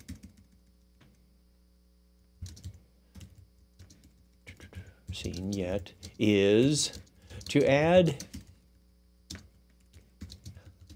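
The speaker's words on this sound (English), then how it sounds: "doing great on the typing today" Soft, scattered keystrokes on a computer keyboard tapping in short irregular bursts, with someone talking over them in places.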